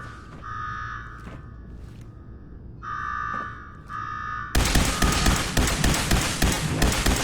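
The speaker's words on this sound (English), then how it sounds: "Now go shut off that damn alarm." A shrill alarm in the video game Fallout 4 rings in repeating bursts with gaps between, then gives way to a loud dense rush of noise.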